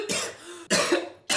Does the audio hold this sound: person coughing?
yes